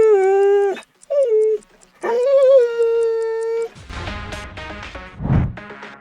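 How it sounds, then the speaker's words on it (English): A lone, scared dog whimpers and howls in long, drawn-out, high-pitched cries with brief pauses, close and loud, followed by shorter yips and whines. "By the sound, the dog seems alone and scared"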